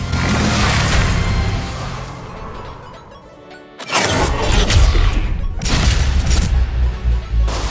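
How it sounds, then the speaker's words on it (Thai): Loud explosions burst through a snowstorm in the LW3 Tundra sniper skin intro of Call of Duty Mobile, two big blasts after a roaring, windy stretch, each trailing into dense crackling debris. "เอฟเฟกเปิดตัวนี่คือแบบว่าเป็นขึ้นพายุหิมะแล้วก็หนูน้อยหมวกแดงวิ่งผ่านระเบิด"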